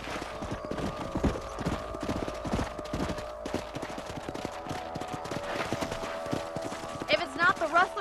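Steady clip-clop of horse hooves while riding in the Red Dead Redemption video game, a rhythmic trotting beat under game ambience, with a brief burst of louder effects near the end.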